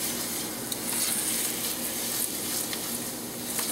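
Rice for a lemon and pea risotto browns in a pan, giving a continuous soft sizzle and frying crackle with faint stirring, close and steady throughout.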